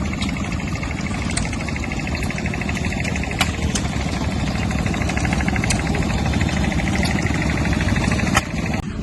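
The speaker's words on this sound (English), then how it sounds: "now we've got past the sea of stationary engines" Rows of old stationary engines running at an outdoor tractor show, a continuous rumbling chug with steady rapid knocking beats and occasional sharp clicks, close and loud without any talking.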